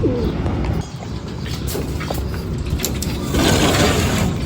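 Racing pigeons arriving at a loft after a 183 km derby race from San Narciso, Quezon, cooing close by with wingbeats and faint mechanical clicks, no talk heard.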